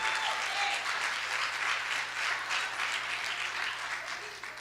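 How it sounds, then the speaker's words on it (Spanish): A church congregation claps joyfully for the Lord, a continuous roomy wash of many hands at moderate level, steady throughout with no voices standing out. "Aplauda al Señor con gozo."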